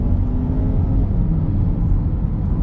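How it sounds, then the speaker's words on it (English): From inside a 2023 BMW X1, a low, steady road rumble fills the cabin as passing cars swell faintly, muffled by the insulation, with no talk. "Besides hearing the cars pass by"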